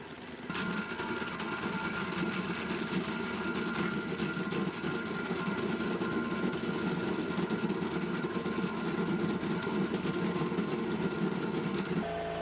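A North American-made stump grinder from Toronto running steadily, a continuous loud mechanical drone with a buzzing whine, unbroken for about twelve seconds before cutting off.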